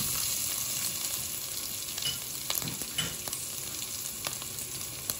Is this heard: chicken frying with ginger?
yes